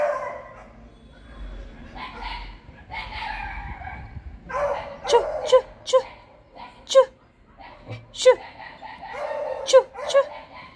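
Dogs bark in a string of sharp, close yips and woofs, some whimpering mixed in, while people talk nearby between and under the barks.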